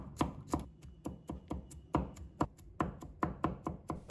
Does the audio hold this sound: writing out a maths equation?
no